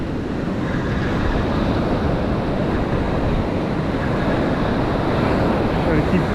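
Steady roar of ocean surf breaking on a beach while surf fishing for striped bass, loud and continuous with wind buffeting the microphone.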